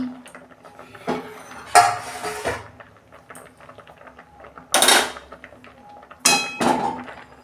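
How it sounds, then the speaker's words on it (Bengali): A metal lid comes off a cooking pot in a home kitchen, giving three loud, close clangs spaced a few seconds apart, with softer rattles and scrapes of cookware between them. "এই যে আমি ঢাকনা খুলছি"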